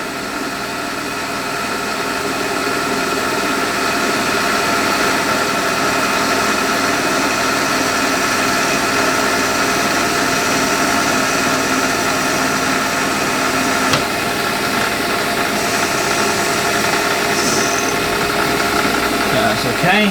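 A Sherline 5000 mill cuts a home-cast metal pulley, giving a steady loud mechanical whir that stays even across the whole stretch, close up and with no talk.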